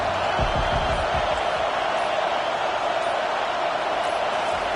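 Stadium crowd noise in the College Football 25 video game, a constant loud roar from a packed crowd trying to keep the opposing team pinned deep, with a few low thumps near the start.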